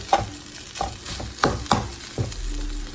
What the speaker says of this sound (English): you can hear it kind of frying, right?